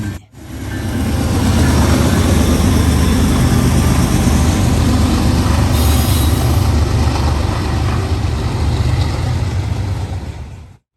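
An eastbound train passing on the tracks at night, a loud, close, sustained roar of rolling cars and wheels that rises quickly and holds steady for about ten seconds before cutting off.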